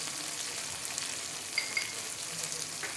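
Ginger paste and spices such as chilli and turmeric powder fry in a pan for kanch kolar kofta while being stirred: a steady close hiss of frying with a couple of light scrape clicks near the middle, no voices.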